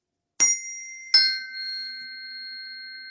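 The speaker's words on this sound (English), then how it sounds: "these frequency forks, and that sounds like this." Two sharp metallic strikes of tuning forks, a moment apart, each leaving a pure, high ringing tone that hangs steadily in otherwise silent surroundings.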